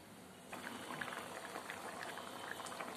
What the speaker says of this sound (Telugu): ఇది ఒక 5 నిమిషాలు మరిగించితే మనకి మంచి అల్లం పులుసు తయారవుద్ది చూసారు కదా పులుసు మరిగింది